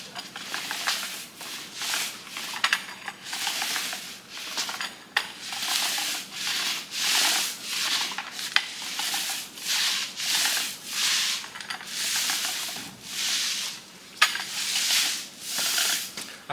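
Paint roller spreading epoxy coating across a floor, a steady wet, sticky rolling swish in repeated back-and-forth strokes, close and fairly loud, continuing without talk.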